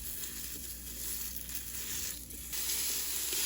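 Sweet Italian sausage sizzles and crackles steadily in a Ninja Foodi Grill, a dense continuous hiss with faint scraping and stirring, growing slightly louder near the end, with no voices.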